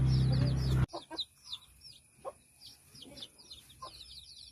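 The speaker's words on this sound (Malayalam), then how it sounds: "ഇതാണ് എൻ്റെ കോഴിയമ്മയും 15 മക്കളും" A mother hen clucks softly among her fifteen chicks, whose rapid high peeps chirp continuously close by, following a brief loud burst of noise at the start.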